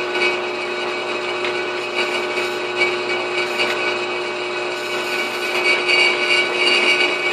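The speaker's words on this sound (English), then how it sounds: "I'm just going to drill a hole through it in order to transfer the mark to the other side." A power drill bores steadily through a wooden board in a leatherworking shop, a continuous loud whine with a humming tone that never lets up.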